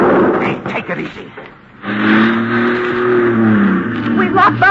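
A car in an old radio drama rolls back with the brake eased off and bumps the car behind it, its engine hum steady and close, with a voice speaking over the opening stretch.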